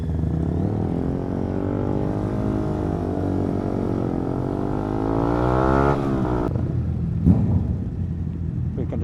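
Several motorcycles ride through slow traffic, a steady engine drone with rising harmonic pitch as one accelerates, then a shift in tone and a brief louder burst near the end, close and continuous.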